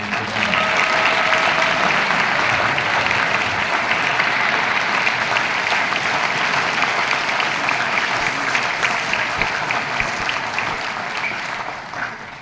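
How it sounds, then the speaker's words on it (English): A concert audience of parents and relatives gives sustained applause for the directors at a district school band event. The clapping is loud and continuous, with a crowd murmur underneath, before it tapers off at the end. "give a round of applause to our directors"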